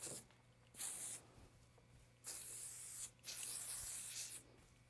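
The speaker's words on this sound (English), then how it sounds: "then I add a little spray to it" Hair spray hisses onto beachy waves in three or four short, steady bursts separated by brief gaps, close and fairly soft, with no talking.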